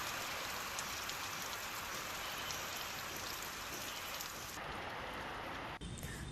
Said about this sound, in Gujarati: કેટલાક વિસ્તારોમાં હળવો વરસાદ પડ્યો છે